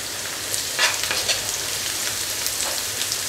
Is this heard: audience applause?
no